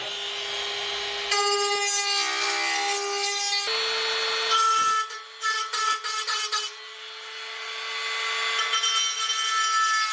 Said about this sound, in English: we're going to change the bits in our Dremel, and we're just going to clean up those edges a little bit.